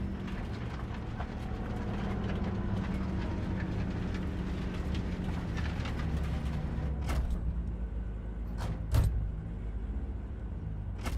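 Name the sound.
train in the video game Cyberpunk 2077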